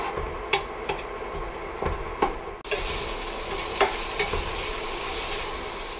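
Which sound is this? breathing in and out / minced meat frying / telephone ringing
minced meat frying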